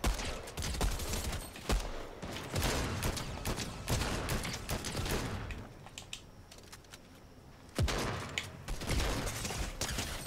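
Rapid bursts of gunfire crackle during a duel with the NPC Mancake in Fortnite Chapter 3 Season 3. Dense, sharp shots pause briefly midway, then the shooting resumes.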